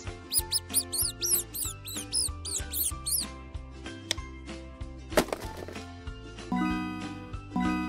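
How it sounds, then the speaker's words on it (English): A cartoon mouse in a children's animal puzzle game gives a run of quick, high squeaks near the start, set against bright, busy music with chimes and plucked notes. "mouse,"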